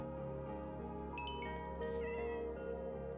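Cat meowing in Minecraft Bedrock Edition, a couple of clear, slightly slow synthetic meows over steady game background music, with no talking.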